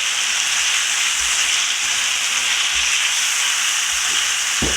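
Potatoes frying in oil for a Trini curry aloo, giving a steady close broadband sizzle and hiss as they are stirred, with faint soft scrapes near the end and no talk.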